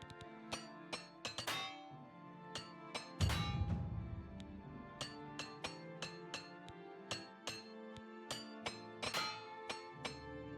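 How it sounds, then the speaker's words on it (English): A repair hammer strikes gear again and again in Oblivion Remastered, making bright metallic clinks at an uneven, quick rhythm with one heavier thud partway through, clear and close over a quiet background. "Where's my repair hammer?"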